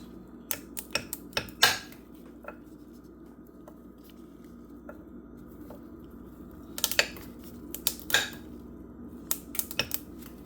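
A knife taps through a block of butter on a cutting board for peach cobbler, making sparse, quiet knocks and short clusters of chopping taps in a still kitchen.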